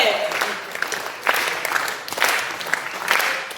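An audience at an all-India Hindi poetry gathering claps in several short bursts of applause that swell and fade, mixed in with a voice speaking over the crowd.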